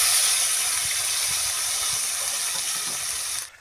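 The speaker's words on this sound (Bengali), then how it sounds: "সর্ষের তেলটা গরম হয়ে গেছে। এবারে আমি এর মধ্যে দিয়ে দেব কুচিয়ে রাখা টমেটো।" Chopped tomato sizzling in hot mustard oil in a pan, a loud, steady hiss that holds evenly for about three seconds and then cuts off abruptly.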